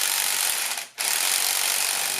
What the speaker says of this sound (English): Let me just back this nut out.